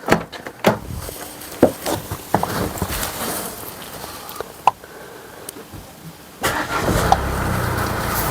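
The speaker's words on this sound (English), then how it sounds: "I'm going to start up the car and turn the steering to the left." A 2017 Mercedes E220 starting up: clicks and door-like knocks, then the engine cranks and catches into a steady, close idle rumble near the end.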